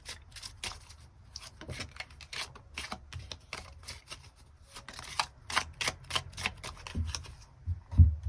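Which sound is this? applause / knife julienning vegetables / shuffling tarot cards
shuffling tarot cards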